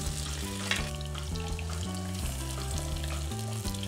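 Fish for braised fish with tofu fries in oil, a steady soft sizzle running under a repeating stepped background melody at low volume, with no voices.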